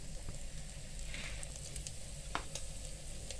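Strips of bell pepper sizzle quietly in a hot pan, a soft continuous frying hiss with small crackles and a faint stir or clink partway through.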